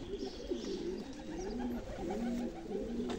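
Pigeons coo in soft, repeated rounded calls close by, several overlapping phrases in a quiet setting with no talking.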